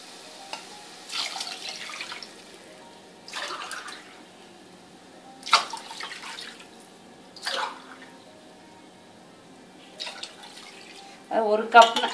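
Water from a cup splashes into a pot for semiya kichadi in several separate short pours, spaced a couple of seconds apart, close and fairly clear.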